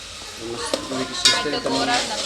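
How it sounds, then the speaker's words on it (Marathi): Onion fries in a pan for a masala, with soft sizzling under clinks and scrapes of a spoon stirring against the metal pan, all close and fairly quiet over a couple of seconds. "कांदा आहे ते पूर्णपणे मारून घ्यायचा"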